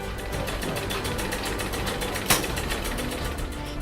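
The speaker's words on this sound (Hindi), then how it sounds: "लेकिन जरा सिलाई मशीन की रफ्तार तो देखिए।" A sewing machine runs fast, its needle stitching in a dense, rapid rhythmic clatter that continues steadily, close and loud, with one brief sharp click partway through.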